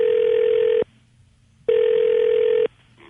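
A telephone ringback tone on a call line sounds twice, each a steady electronic ring just under a second long, separated by a short silence, clear and close with no voices.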